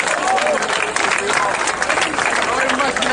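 A live concert crowd applauds, a dense continuous wash of clapping and crowd noise with voices mixed in.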